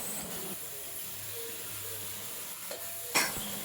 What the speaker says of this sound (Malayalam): അപ്പോൾ അതുകൂടി ഇട്ടിട്ട് നമുക്ക് നല്ലതായിട്ട് പേസ്റ്റ് പോലെ എന്ത് ചെയ്യാം, വഴറ്റിയെടുക്കാം.